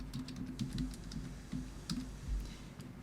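Quiet typing of text on a computer keyboard, an irregular patter of soft key clicks with occasional heavier taps, close to the microphone and with no talking.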